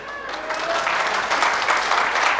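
A live audience claps at a Hindi comedy talk, a dense, even roar of many hands that holds steady and close throughout.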